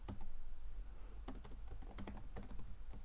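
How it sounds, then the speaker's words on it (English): Rapid typing on a computer keyboard, with a dense flurry of key clicks at first, then irregular bursts of keystrokes with short pauses, close and clear, with no voices. "I'm probably going to do a bit of typing"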